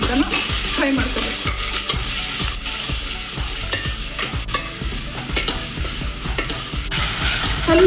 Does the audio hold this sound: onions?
yes